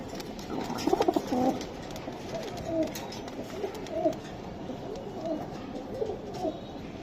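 Pigeons at a seller's stall coo softly in repeated low, throaty phrases, one after another, fairly close with faint background noise.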